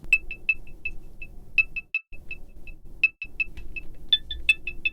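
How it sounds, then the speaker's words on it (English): Arturia Analog Lab V synth pluck playing short, bright, bell-like notes in quick rhythmic bursts with brief pauses, over a soft low bed, moderately loud and with no talking. "So I wanted some pluck sounds."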